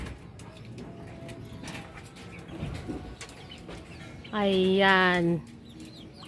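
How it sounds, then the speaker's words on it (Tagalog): Chickens kept in cages below a string-bean trellis let out a loud, close burst of clucking for about a second, standing out over faint outdoor background and a brief spoken word. "oh, may mga manok dyan."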